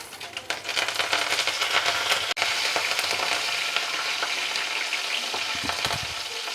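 Mustard seeds, cumin and four garlic cloves sizzle and crackle in hot oil for a tempering for a cucumber tamarind chutney, a dense, steady frying hiss with occasional spoon stirs, loud and close without talk.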